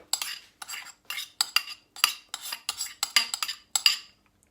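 Rhythmic metallic scraping and clinking of a utensil stirring softened onion in oil in a pan, about a dozen quick strokes in irregular bursts, close and clear.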